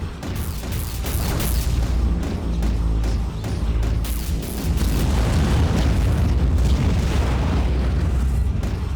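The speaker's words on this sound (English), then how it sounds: "The explodey bits in this game are really" Loud, dense explosions from the underwater combat game Aquanox boom continuously throughout, with deep rumbling bursts and crackling debris layered over each other and no talking.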